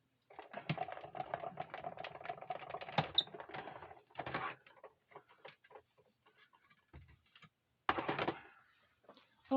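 A card is fed through an embossing folder in a cranked embossing machine, giving a run of close, irregular clacking and ratcheting bursts with pauses between them.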